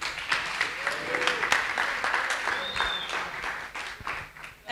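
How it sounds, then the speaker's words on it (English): Conference audience applauding on a main stage at a university in Johannesburg, a moderate, scattered round of clapping with uneven swells and a few sharper claps, heard at some distance. "So let's give her a big round of applause."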